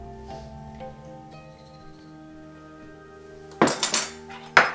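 Sugar is stirred into warm water at about 100 degrees for yeast, with quiet clinks of a utensil, then a few louder scraping clatters against the container near the end.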